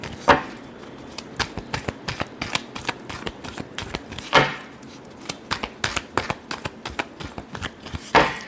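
Tarot cards being shuffled in riffles and quick flicks, a steady run of crisp papery slaps with louder bursts near the start, middle and end, close up with no talking.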